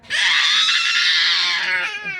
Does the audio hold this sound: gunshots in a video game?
no